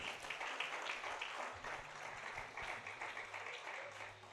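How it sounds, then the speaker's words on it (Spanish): Faint congregational applause during a church service, a soft, steady patter of clapping with low background hum, somewhat distant in the hall. "Denle un aplauso al Señor"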